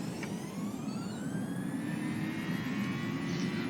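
A PMDG 737 jet in the FSX flight simulator game roars on its takeoff run, a steady, loud engine rumble with a rising whine building over the seconds.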